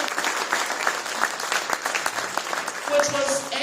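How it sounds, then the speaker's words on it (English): Dense applause for a morning panel at a Māori land organisations summit in 2022, steady clapping from a full room with a speaker's voice continuing over it. "Ladies and gentlemen, a round of applause for our panel this morning"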